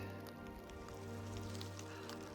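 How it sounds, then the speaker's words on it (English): Steady rain falls on the North Kaibab Trail in Grand Canyon National Park on a cold, cloudy day, a constant soft hiss with scattered drops close by and no talking. "Rain"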